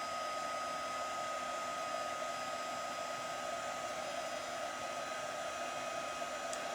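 A heat tool melts gold embossing powder on a Christmas card, giving a steady, unbroken blowing hum for several seconds with no talk.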